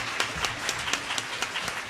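Conference audience clapping for a panel of speakers, a brief, dense patter of many hands at moderate level.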